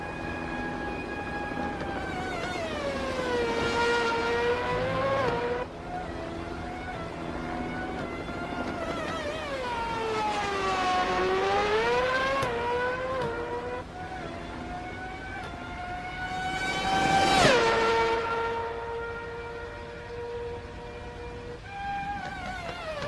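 A V8 Formula One engine in a video game wails as it revs up and down through gear shifts, loud and sustained, with a sharp pitch rise and drop near the end.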